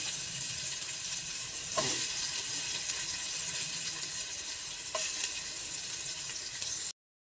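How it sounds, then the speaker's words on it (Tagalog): Garlic browning in hot cooking oil in a pan, the start of a Filipino corn soup with bitter gourd leaves, gives a steady close hiss and crackle of frying with two brief sharper bursts. "Lagyan na natin ang bawang. Pag-brownin natin yung bawang."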